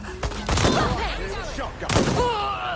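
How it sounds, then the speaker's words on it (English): Gunfire in the Watch Dogs Legion game, a couple of loud broadband blasts near the start and another near the end, mixed with game chatter and voices. "Shotgun."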